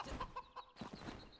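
Chickens cluck softly in a farming video game, a few short clucks spread across a brief, faint stretch with nothing else going on.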